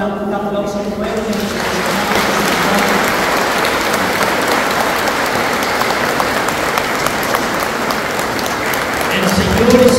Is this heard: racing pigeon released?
no